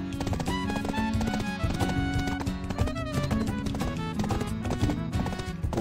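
Horse hooves clip-clopping in the online role-playing game Black Desert Online, a steady, continuous trotting rhythm layered over dense game music that fills the whole stretch.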